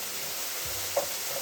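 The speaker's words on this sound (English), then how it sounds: "So I'm gonna let them fry up." Potatoes frying in a pan on a home stovetop give a soft, steady sizzle with a faint hiss and one small clink partway through; no one speaks.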